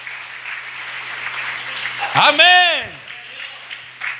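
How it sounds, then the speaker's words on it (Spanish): A church congregation breaks into steady applause that runs throughout, with a single spoken word from a voice rising briefly above the clapping partway through. "Alguien le da palmas al Señor."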